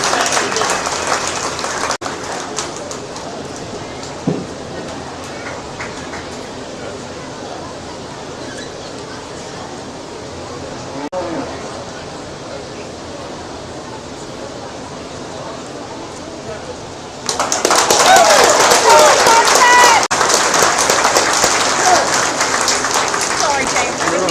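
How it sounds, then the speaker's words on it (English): An audience at a livestock steer show breaks into loud, sustained clapping near the end, following a quieter stretch of arena murmur and talk. "Let's go ahead and give these kids a big round of applause"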